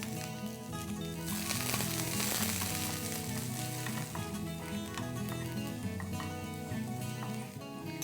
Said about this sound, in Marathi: तेल तापलं आहे, त्यामध्ये मी लसूण टाकते.